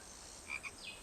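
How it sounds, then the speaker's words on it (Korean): A frog in an animated film gives a couple of quick, faint, chirpy croaks over a low background hiss. "개구리."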